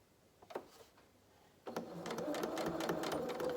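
A domestic sewing machine runs a steady, continuous stitching whir as it sews fabric body pieces for a soft toy using a 2.2 straight stitch. A few faint clicks come first, then the motor starts and keeps going loudly to the end.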